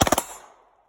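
A rapid burst of four close, loud gunshots at a carbine and pistol shooting challenge, fired in quick succession and ringing out briefly in an open-air range afterward.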